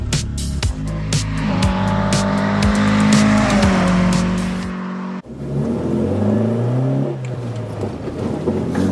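A Zetec-powered Mk2 Ford Escort driven hard, its engine revving high and climbing through the gears with brief tyre squeal, a sharp cut in sound midway, then another loud acceleration pulling away.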